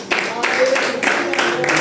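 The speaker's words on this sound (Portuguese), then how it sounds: "aplaudir Jesus, queridos" A church congregation applauding, a brief, dense wash of many hands clapping, loud and close, blended with voices.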